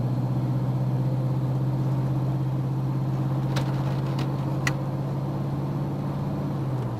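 A car fitted with a 4L60E automatic transmission cruises on a road test under light throttle, giving a steady low engine drone with a faint rise and settle as it upshifts, plus a couple of brief ticks partway through.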